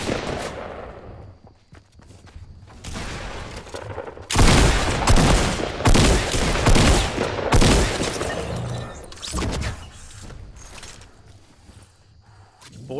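A cluster of loud, close gunshots in Fortnite Battle Royale, sharp cracks and bursts with clattering mechanical noise between them, fading to quieter shots afterward.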